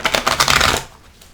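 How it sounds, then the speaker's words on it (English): A deck of tarot cards is riffle-shuffled up close, a quick burst of rapid papery flutters lasting under a second before falling quiet. "Oh, we don't have it shuffled there, do we?"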